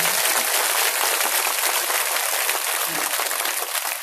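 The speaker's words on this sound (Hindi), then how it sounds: "इसलिए महाराज जी की कथा जितनी अच्छी लगी उतनी जोर की ताली बजाओ।" An audience at a devotional discourse gathering in Noida claps loudly and continuously, a dense, sustained roar of many hands that carries through the whole stretch without speech.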